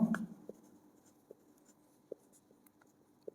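Writing on a board during a finance lecture, a few faint, sparse taps and light strokes spaced irregularly after a brief louder voice at the start, in an otherwise quiet room.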